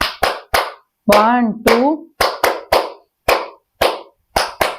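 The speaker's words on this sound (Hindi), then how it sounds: "दोनों हाथों से तालियों को बजाएंगे।" Rhythmic hand clapping during a seated group exercise, with sharp, evenly spaced claps in a steady beat and a single voice counting in the middle.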